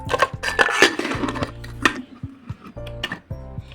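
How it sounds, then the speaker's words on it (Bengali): Chunks of mutton clatter and thud into a metal pressure cooker, with several short knocks and clinks of a utensil against the rim, close by. "এবার আমি সবটা মটন প্রেশার কুকারের মধ্যে দিয়ে দেবো"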